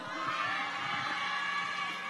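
Outdoor festival crowd at a Seoul fireworks festival concert with MAMAMOO, a dense, steady roar of cheering and applause from a large audience, continuous and fairly loud throughout with no clear individual voices.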